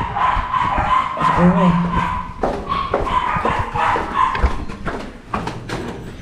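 A dog barks and yips several times in short bursts, close by, mixed with whimpering and background voices.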